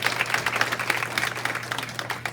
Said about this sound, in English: Let's give ourselves a strong clap for those amazing projects.